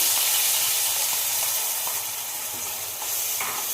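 Pineapple hits hot ghee in a pan and sizzles loudly and steadily up close, a continuous bright hiss with faint stirring clicks and no voices.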